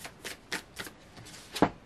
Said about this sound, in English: I get to June, I feel like I need to shuffle.